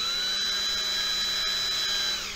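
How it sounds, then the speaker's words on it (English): A battery cordless hand drill runs at a steady, high-pitched whine, continuous and close, with no other sounds. "this is my hand drill"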